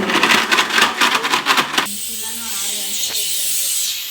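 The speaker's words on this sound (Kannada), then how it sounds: "ಕುಕ್ಕರ್ ಕೂಗ್ತಾ ಇದೆ ನೋಡಿ" A pressure cooker whistles while sambar cooks, first in rapid pulsing bursts of hiss and then as a steady, loud, sustained steam hiss.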